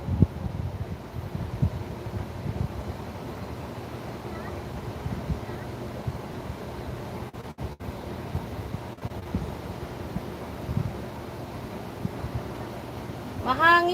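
Strong outdoor wind buffets the microphone in a continuous low rumble with gusty bursts, close and loud throughout, with no voices standing out above it.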